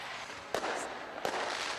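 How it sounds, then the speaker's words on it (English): Two sharp fireworks bursts from a large pyrotechnic display crack out about three-quarters of a second apart against a steady crowd-like hiss, moderately distant. "This was followed by fireworks displayed which lasted 5 minutes with more than 500 kilograms of pyrotechnics launched from various"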